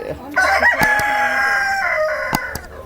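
A Black Australorp rooster crows loudly and close, one drawn-out call with a few sharp knocks and faint background noise around it.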